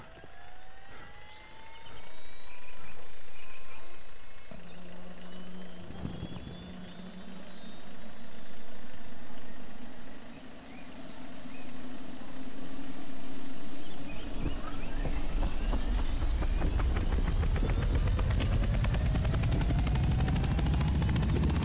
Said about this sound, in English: Alright, there's the helicopter.